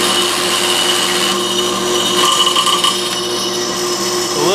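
An Accusize tap head drives a tap into a hole, producing a steady, close machine drone with a tonal hum and slight grinding variations throughout.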